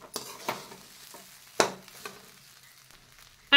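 Semolina upma being stirred in a hot pan: a few scraping strokes of a spoon against the pan, spaced out over a faint sizzle, close and fairly quiet.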